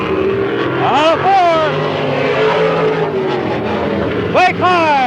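Stock cars racing at Midvale Speedway in 1995, loud continuous engine roar with two cars sweeping past close by, Doppler whine rising and falling, under a race announcer's talk.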